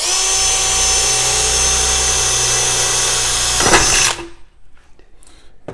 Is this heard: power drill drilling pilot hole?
yes